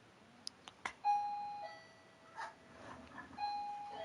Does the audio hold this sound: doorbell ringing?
yes